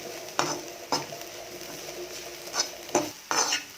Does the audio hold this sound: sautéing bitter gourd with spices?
yes